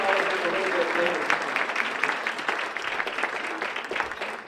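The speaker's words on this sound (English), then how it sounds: "I want to give all the students a round of applause" A banquet audience at a Fresno State Armenian Studies event gives the students a round of applause, a dense, even burst of many clapping hands heard close and loud.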